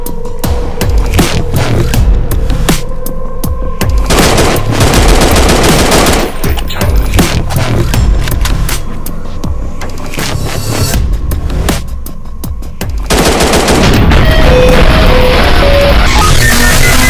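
Rapid bursts of automatic gunfire and single shots crackle loudly and almost continuously in a video game, dense and close, with brief pauses between volleys.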